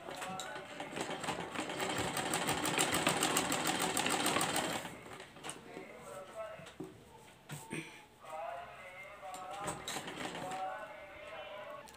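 A sewing machine stitches a kurti neckline in a rapid, steady run for several seconds and then stops, followed by quieter handling noises and someone talking.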